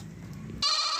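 A Gulabi Rajanpuri goat gives one loud, close, sustained bleat, starting abruptly after a low rumble of background noise.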